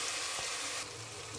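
Garlic paste hitting hot mustard oil in a pan for a Bengali rui fish kalia, a steady close broadband sizzle that drops slightly in intensity partway through, with no talking.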